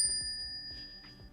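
A single clear bell ding rings out at the start, then decays as a sustained bright ring that stays quiet and alone, with no talking over it.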